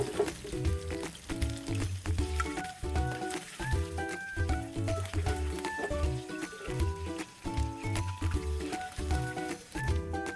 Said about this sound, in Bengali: মাছগুলো ভাজা হয়ে গেছে এবার আমি উঠিয়ে নিচ্ছি